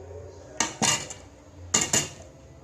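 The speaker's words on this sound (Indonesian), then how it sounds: "sendok" A metal spoon clinks against dishes twice, each time as a short pair of bright ringing taps close by in a quiet kitchen, with no talking.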